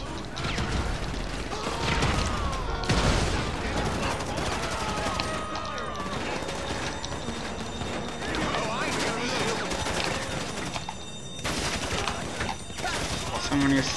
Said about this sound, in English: Someone is firing at me.